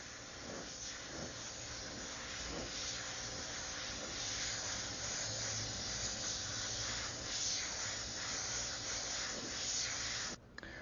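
An airbrush spraying white paint, giving a continuous close airy hiss that holds steady and then cuts off abruptly near the end.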